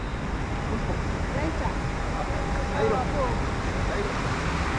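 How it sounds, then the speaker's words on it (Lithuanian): Sea surf rolls onto a black-sand beach in Cartagena, Colombia, a steady broad wash of waves with wind noise, continuous and fairly close, with no clear speech. "Viskas atėjom prie jūros."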